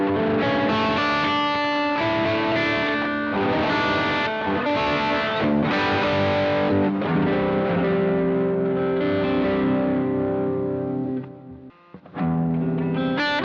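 An electric guitar played through an effects chain, meant as a clean patch, rings out with dense, sustained chords and picked notes. It carries a slightly saturated, chorused shimmer and plays loud and continuous, with a brief dropout near the end.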